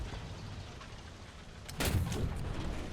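A tank cannon fires in War Thunder, firing the QF 3.7 gun on a Ram tank, one heavy boom arriving partway through and rumbling on after a quieter stretch of low engine noise.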